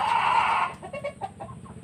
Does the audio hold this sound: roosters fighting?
yes